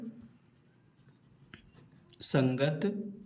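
A pen scratching out a Class 10 maths question on circle areas, soft faint strokes at first, then a louder burst of quick writing toward the end, with hushed voice sounds mixed in.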